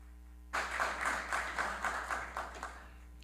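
Applause breaks out during a municipal council plenary session honoring a guest, a burst of many hands clapping in steady rhythm that begins abruptly and fades after a few seconds, fairly distant over a low room hum.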